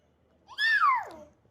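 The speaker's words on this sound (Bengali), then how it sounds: "এটা বিড়াল। এটা বিড়াল।" A single cat meow, close and clear, rising briefly and then sliding downward over about a second, with nothing else sounding around it.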